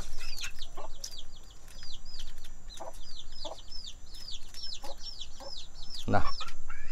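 Leghorn chickens clucking and calling repeatedly nearby, with small birds chirping steadily in the background of an outdoor yard.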